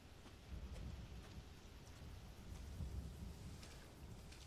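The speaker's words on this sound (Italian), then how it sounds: "Ho sentito come dei tuoni," Rain and rumbling thunder in the horror game Resident Evil 7, a faint, steady wash of rainfall with low distant thunder rolls underneath.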